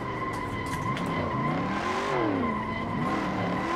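A car in Assetto Corsa, in fourth gear at full turbo on a living-room track mod: the engine revs hard and loud with its pitch climbing and dipping, and tyres squeal briefly underneath.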